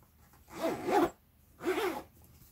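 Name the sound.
zipper being zipped on a bag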